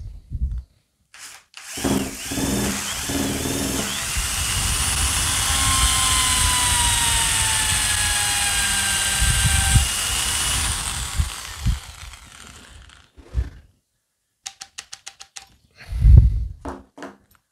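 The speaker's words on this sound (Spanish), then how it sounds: "Con este taladrito muevo el otro taladro y todavía me sobra energía" A small electric drill whines steadily for about ten seconds while it drives a second drill through a wooden coupling, with its pitch gliding downward, and brief clicks and knocks before and after.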